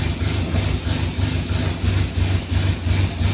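A classic Mini's small engine idles steadily up close, a loud low rumble pulsing in a quick, even rhythm with no talk over it.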